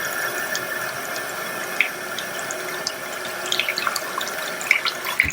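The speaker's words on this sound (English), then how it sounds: "So I'm going to go turn on the water so you guys can see." Tap water runs steadily into a tub sealed by a multi-fit stopper, a close, continuous splashing hiss with small bright splatters and no voices.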